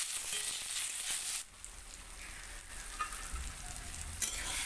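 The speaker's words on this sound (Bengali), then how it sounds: "এবারে নাড়াতে থাকবো।" Chopped tomatoes sizzling and frying in a pan for an egg and poppy-seed scramble, a steady hiss with soft stirring scrapes, close and fairly quiet, with no talking.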